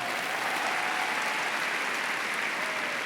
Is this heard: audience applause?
yes